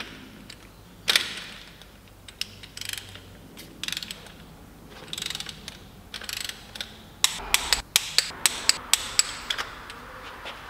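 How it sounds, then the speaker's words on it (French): A torque wrench ratchets in quick bursts of sharp metallic clicks while spark plugs are tightened to 30 Nm on an Audi RS3 five-cylinder engine, close and crisp with brief pauses between strokes. "Je vais maintenant serrer ça au couple. 30 Nm."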